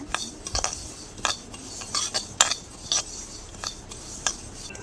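Sesame seeds are dry-roasted in a pan and stirred, producing scattered scraping and light clinking of a utensil against metal at an irregular rhythm, close and moderately loud, with no voices.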